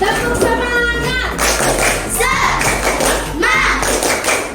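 Children at a primary school perform a rhythmic 'tepuk semangat' clapping chant, loud and close, with patterned claps mixed with shouted voices in short bursts.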